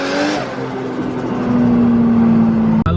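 A car driven on a track in Portland, Oregon, with its engine note climbing steadily under load, loud and close, ending with a brief sharp drop.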